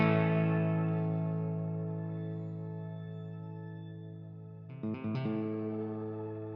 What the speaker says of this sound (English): So it's keeping my shimmer effect inside this reverb.